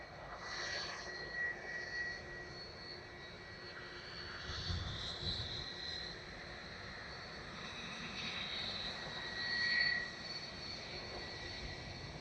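A jet airliner landing at Dublin Airport, its engines a steady distant roar that swells and fades over the twelve seconds with no one speaking.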